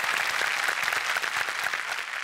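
Loud, steady applause from a studio audience on a Marathi television comedy show, sustained clapping filling the whole stretch without a break.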